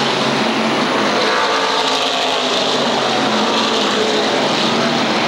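SK modified race cars racing at Waterford Speedbowl, a loud, steady wall of engine roar from the pack with a faint rise and fall as cars pass, and no voices.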